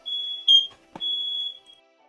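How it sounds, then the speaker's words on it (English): A smoke alarm goes off indoors with a piercing high beep, one short louder chirp and a brief click in between, then the tone continues before cutting off. "Smoke alarm going off there."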